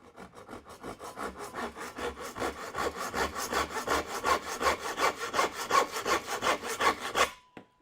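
Handsaw cutting a 45-degree angle through a piece of wood, close and rhythmic back-and-forth strokes that speed up slightly before stopping abruptly.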